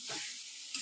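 Bombay duck fish sizzles softly in spice masala over a high gas flame, a brief faint frying hiss with light stirring scrapes.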